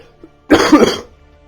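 A person with a cold lets out a short burst of coughing, a single loud cluster lasting about half a second, close and clear against near silence.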